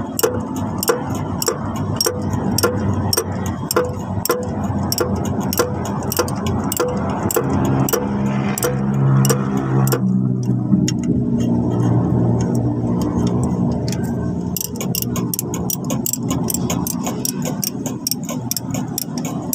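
Rapid, steady ratchet clicking from work on a second-generation Honda CR-V engine, close and loud, running continuously in an even rhythm.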